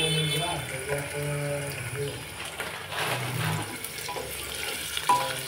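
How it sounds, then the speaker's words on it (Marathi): Onions with two or three bay leaves frying and being stirred in a pan, a steady soft sizzle with scraping under speech. "मोठे 2 कांदे छान असे परतून घ्यायचे आहेत"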